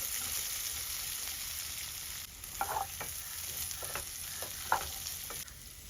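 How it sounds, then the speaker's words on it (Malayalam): Pre-fried chicken pieces slide into hot oil in a pan, giving a steady crackling sizzle with a few sharper pops and stirring clatters, close and alone. "നമുക്ക് നേരത്തെ വറുത്ത് വെച്ച ചിക്കൻ അതിനകത്തോട്ട് മാറ്റാം"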